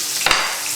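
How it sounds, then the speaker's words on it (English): Leeks and onion frying in olive oil and butter in a pan, a steady bright sizzle with a brief scrape of stirring partway through, close up and without voices. "we're going to start by frying the leeks and the onion"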